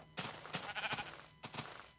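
Sheep bleating in Minecraft, several short blocky game bleats in quick succession, a cluster early on and another near the end, with no talk over them.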